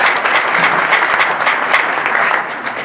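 A church congregation claps together in a loud, close, fairly rhythmic burst of hands, steady for a few seconds before easing slightly at the end.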